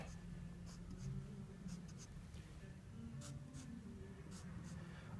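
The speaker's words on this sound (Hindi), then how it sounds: "यहाँ हम लिखेंगे गाफ, यहाँ लिखेंगे अलिफ और इन के नीचे भी मैं क्रॉस लगा देता हूँ" A pen scratches steadily across paper while Urdu letters are written out by hand, a soft, continuous, close-up scraping against a faint background hum.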